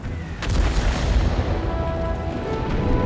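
Artillery fire in the video game World of Tanks: a loud, heavy boom that rolls on as a dense rumbling roar for several seconds.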